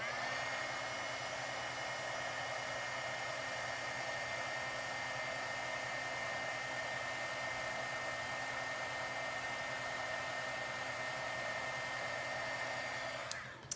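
A heat tool blows steadily to melt white embossing powder on a card, a loud continuous whir close by that runs unbroken until it clicks off at the very end.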